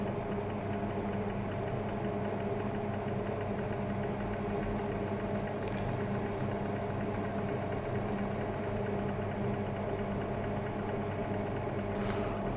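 A series-excited DC motor runs steadily on a lab test bench, giving a continuous even hum and whir at moderate level with no change in rhythm throughout and no voices.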